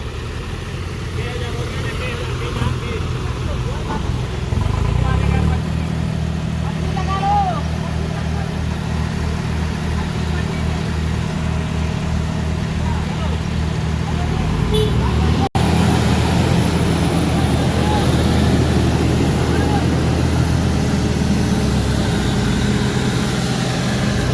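A tractor engine labours steadily under heavy load as it pulls a bore machine stuck in mud, a loud continuous low rumble that grows stronger partway through, with voices faintly present.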